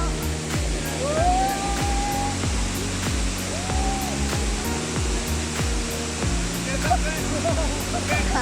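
Langevin waterfall rushes with a constant, loud roar of falling water, while voices occasionally rise above it.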